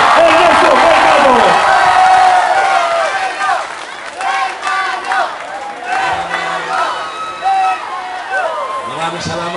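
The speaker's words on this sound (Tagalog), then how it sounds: "isa pang malakas sa palakpak na may hiyaw" A large crowd at an evening barangay political rally applauds and cheers for the mayor, loud sustained clapping with whoops and shouts that fade into scattered cheers, a voice calling over the noise.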